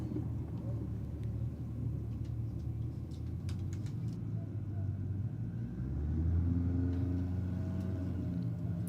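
Datsun and Falcon cars in a roll race give a deep, distant engine rumble that swells toward the end, with a commentator talking over it.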